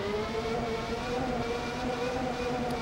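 A Formula 1 race car engine in the Super Nintendo racing game Exhaust Heat holds a steady, loud droning whine with stacked harmonics, running continuously without a break.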